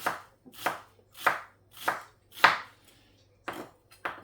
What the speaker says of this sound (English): let's get your onions and start chopping these quite fine